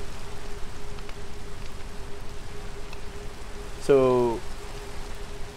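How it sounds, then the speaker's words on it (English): Steady rain falls in a modded Minecraft world at night, a constant soft hiss throughout, with a brief spoken word breaking in near the end. "Oh my gosh, it's nighttime and raining now."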